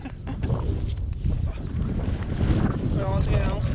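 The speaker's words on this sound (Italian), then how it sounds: "vento pazzesco" Strong wind on a chairlift at Passo Furcia roars and buffets the microphone in a constant broadband rush, with faint voices briefly emerging near the end.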